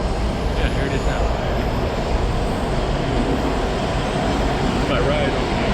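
A Washington DC metro train pulls into a station with a loud, continuous rumble and roar that fills the whole span close by.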